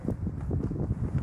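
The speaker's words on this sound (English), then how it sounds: "Proper windy out on the moors now." Low, blustery wind roars across open moorland, a steady rumble with gusty surges and no voices.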